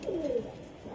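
A pigeon, among racing and Budapest pigeons offered for sale, gives a single short low coo close by, followed by quiet.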